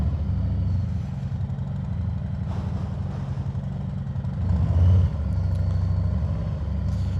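A 2018 Harley-Davidson Softail Heritage Classic motorcycle cruising on a warm day, its engine giving a steady, continuous low rumble that rises briefly in loudness partway through, with no talking.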